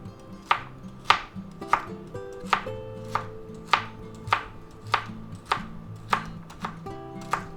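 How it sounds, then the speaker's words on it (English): A knife slices bok choy on a cutting board in a steady series of about twelve crisp, evenly spaced chops, close and clear with no talking. "So we'll just go ahead and slice this up this way."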